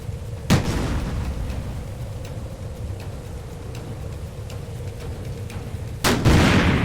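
A World War II naval deck gun fires in the Victory at Sea Atlantic naval warfare game, giving two loud, sharp booms about six seconds apart over a constant low engine and sea rumble.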